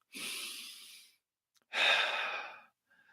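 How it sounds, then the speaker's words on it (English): Heavy, effortful breathing close to the microphone: two long, breathy exhales separated by a short pause, with a faint breath starting at the very end and no talking. "Oh my goodness, I'm breathing hard again."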